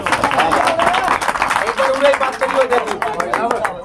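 Brisk clapping from a few people, continuous and fairly close, mixed with voices talking over it.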